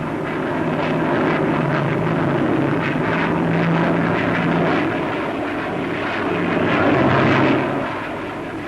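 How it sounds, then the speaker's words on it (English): The Boulton Paul 111A delta wing research jet flies past at a 1950s Farnborough air show, a loud, continuous roaring whine that swells near the end before easing off, with no voices. "Another research aircraft, the Bolton Paul 111A, a very fast little delta wing type."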